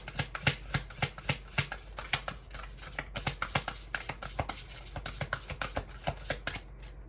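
Angel reading cards shuffled by hand in a steady run of crisp riffling snaps, close and fairly loud, with a brief pause near the middle and no talking.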